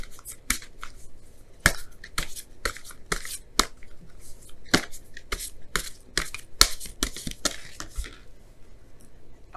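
Tarot cards shuffled by hand in a quiet room, giving a steady run of sharp, close riffling snaps and flicks in an uneven rhythm, with no voice over them.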